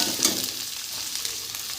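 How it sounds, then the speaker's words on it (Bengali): Ridge gourd sizzles steadily in a hot frying pan while being stirred, a close, even hiss with soft scraping and no talk. "ঝিঙেটা দিয়ে ভালো করে নেড়ে নিয়ে ওপর দিয়ে গুঁড়ো মশলাটা দিয়ে দেব"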